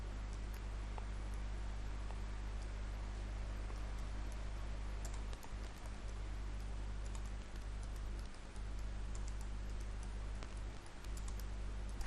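Quiet, irregular clicking of keys on a computer keyboard continues over a steady low hum, with no talking.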